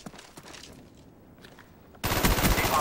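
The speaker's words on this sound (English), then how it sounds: "AUG ACOG is pretty good. I mean, the recoil is pretty big, but you know, high fire rate, pretty good range." Automatic AUG rifle with ACOG sight fires in Call of Duty Black Ops: quieter distant combat noise first, then a loud, dense burst of rapid gunfire filling the last second of the clip.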